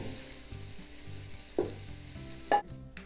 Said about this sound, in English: Go ahead and start just kind of scrambling the eggs. Scraping the bottom.